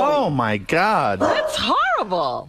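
A man imitates a dog with loud, whiny vocal barks and yips, close to the microphone, mixed with brief speech.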